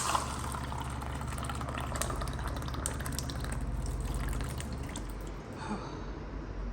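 Water is poured in a steady, soft trickle that fills a container for about five seconds before tapering off, heard alone and fairly faint indoors.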